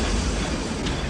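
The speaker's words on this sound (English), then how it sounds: "Stop the train!" Steam train running in The Last Express, a steady dense rumble with rail clatter filling the whole moment, loud and continuous with no voices.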